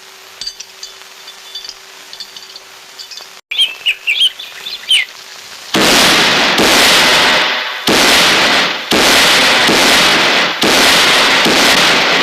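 Birds chirp sparsely before a run of firecrackers at a Kerala temple festival goes off, a close, loud series of roaring bursts separated by short gaps.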